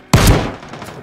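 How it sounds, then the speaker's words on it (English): A single loud, close gunshot in the video game Ring of Elysium cracks sharply, then leaves a short rumbling echo that fades over about a second. "I guess we can go toward the shots"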